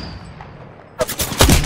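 Gunfire in the video game Apex Legends: after a second of low background rumble, a rapid burst of loud, sharp shots breaks out close by and continues to the end.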